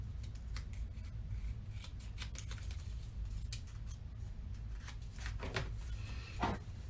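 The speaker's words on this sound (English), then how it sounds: "So once again, we just cut our excess off." Scissors trim excess paper from a scrapbook layout with soft, close snips in short bursts, and one crisper cut near the end.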